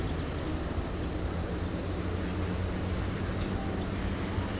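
Airplane departing from runway 18 left at DFW Airport at night, a steady distant jet roar and rumble, broadband and unbroken.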